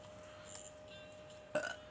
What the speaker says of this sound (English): I burp.